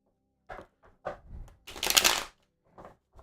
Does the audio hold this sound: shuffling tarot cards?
yes